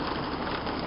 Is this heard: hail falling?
yes